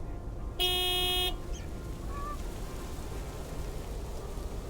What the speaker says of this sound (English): Big, white, wobbly, and with a honking great horn.